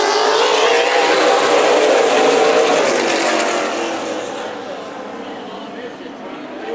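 Race cars roar at Stockton 99 Speedway during a SPEARS Southwest Tour event, bunched in a drag race out of turn two. The loud, dense engine noise holds steady, then fades and thins as the pack moves away.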